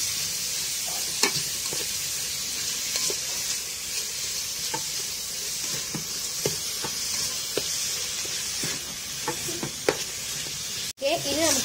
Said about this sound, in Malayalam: അതുപോലെ തന്നെ ജിഞ്ചർ ഗാർലിക് പേസ്റ്റ് കൂടെ ഇതിലേക്ക് ചേർത്ത് കൊടുക്കാം. ഇനി നന്നായിട്ട് തന്നെ വഴറ്റിയെടുക്കാം.